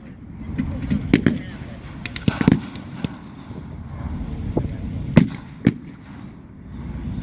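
During a military battle reenactment, sharp gunshot cracks ring out at irregular intervals, some single and some in quick clusters, over a low rumbling background with faint voices.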